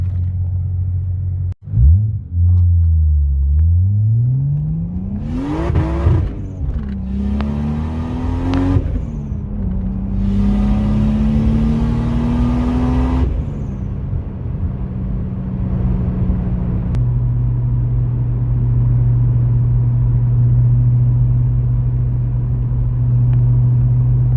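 A Toyota Supra with a 2JZ engine makes driving pulls, its engine note rising through several revving sweeps and gear changes, loud and close in the cabin, then settling into a steady low drone.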